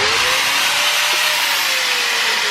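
Power grinder stripping paint off a Honda Prelude seat part, a loud continuous abrasive hiss and whine that stays steady and close throughout.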